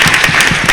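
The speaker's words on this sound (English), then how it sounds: "you can applaud her because she's awesome" Panel audience at San Diego Comic-Con clapping for DreamWorks producer Gina Shay, a brief dense burst of applause filling the hall.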